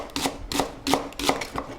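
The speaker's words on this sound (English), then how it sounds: "So I have a full onion that I'm just gonna julienne" Knife chopping a whole onion into julienne strips on a cutting board, four or five quick, evenly spaced cuts close up with no talk.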